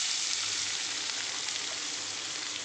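Onions sautéing in a pan with green chillies and curry leaves, a steady, even sizzle that hisses continuously without pauses, moderately loud and close.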